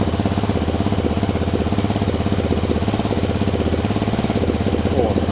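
A small engine with a clutch runs at a steady idle after a key start, a close, even chugging pulse holding unchanged from start to finish.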